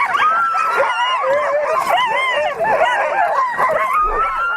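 A sled dog puppy in harness howls and whimpers eagerly while waiting to run, a loud, wavering, continuous cry up close.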